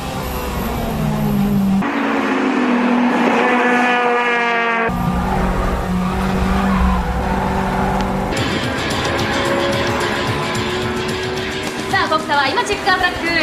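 Race cars in a hard braking duel on a circuit, one running VTEC power: loud engines rev and drop, tires squeal, and there is a sharp change in the sound partway through, with a commentator talking over it.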